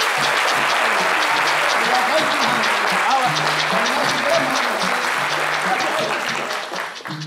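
Loud, sustained applause from a studio audience on a French-language midday show as a guest is welcomed, dense clapping throughout with a faint tonal musical line underneath, fading slightly at the end.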